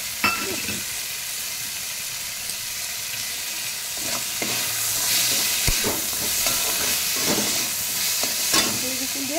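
Cashews and raisins fry in a pan for a paneer posto dish, giving a steady loud sizzle and hiss. Scraping stirring strokes cut through now and then, close by.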